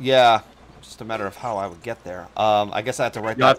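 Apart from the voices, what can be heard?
No everyday noises stand out.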